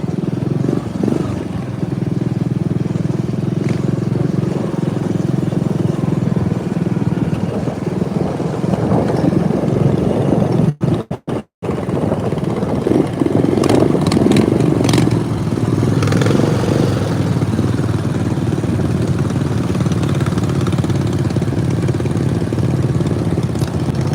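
A John Deere riding lawn mower engine runs steadily while driving in second or third gear on a sunny day, a loud, continuous rumble with rattling and a brief dropout midway.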